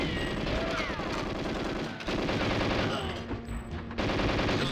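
Turret gunfire in GoldenEye on Xbox, sustained rapid machine-gun bursts that run almost continuously, loud and dense, with game sound effects mixed in.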